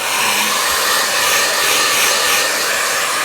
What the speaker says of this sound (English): I'll turn on the loud, obnoxious hair dryer